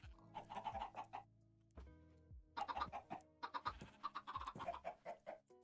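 Chickens in the Minecraft video game cluck in short bursts of quick, clear calls, separated by pauses and standing alone without talk.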